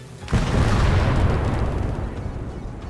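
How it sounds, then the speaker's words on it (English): A loud artillery strike or bombing run in the WW2 game Call to Arms Gates of Hell: Ostfront, a sudden heavy boom that rolls into a long rumbling blast and slowly fades. "You can also unlock supports such as off-map artillery strikes, smoke barrages, and bombing runs."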